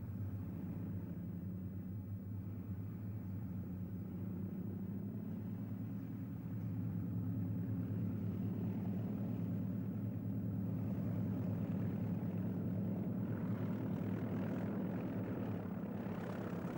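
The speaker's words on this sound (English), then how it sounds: "Two Class 20s double-header train from Skegness to Derby." Two Class 20 diesel locomotives double-heading a train from Skegness to Derby, a steady low engine drone and rumble that holds throughout and swells louder in the second half, with no talk.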